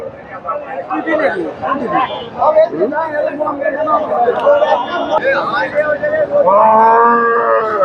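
Friesian cross cattle mooing repeatedly amid a busy crowd at a cattle market, with people chattering throughout and a long, loud low from a nearby cow toward the end.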